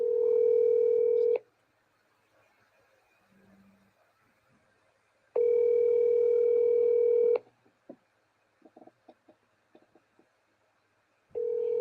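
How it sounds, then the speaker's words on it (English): Outgoing telephone call ringback: two long, loud electronic ring tones separated by silence, a third beginning at the end, with faint clicks and soft tapping in the quiet gap between rings. "I'm going to call him right now."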